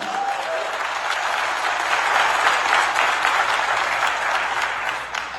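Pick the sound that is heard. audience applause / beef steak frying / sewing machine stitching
audience applause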